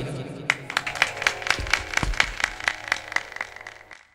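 An audience at a Bhojpuri devotional Sunderkand singing program claps steadily and rhythmically, several hands in evenly spaced beats filling a few seconds, with a low hum underneath.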